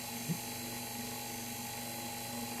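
A small motor running steadily at its lowest speed setting, giving a constant whining hum with fixed tonal harmonics and one faint click near the start, close and fairly quiet, with no voices.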